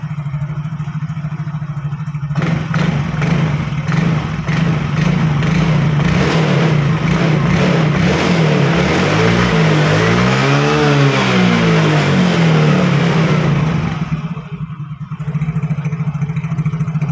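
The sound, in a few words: Yamaha Fino scooter engine revved by blipping throttle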